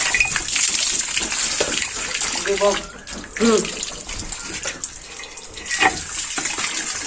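Water splashes from hands washing a face at a tap in a home setting, with repeated short splashing bursts and running water, while people talk and shout over it.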